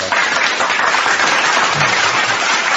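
Dense, continuous applause from a group of people, an unbroken wash of many claps at an even loudness with no individual beats standing out.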